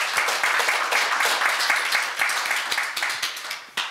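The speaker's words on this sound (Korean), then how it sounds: "박수 한번 쳐주세요" Neighborhood residents at a local public forum on a park's underground parking project clap together, a lively burst of many hands with distinct individual claps, steady and fairly near, tapering slightly toward the end.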